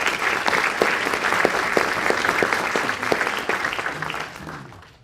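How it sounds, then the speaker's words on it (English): Audience applause fills a white coat ceremony hall, steady dense clapping from a large crowd that holds for several seconds and then fades out. "And that deserves a round of applause as well."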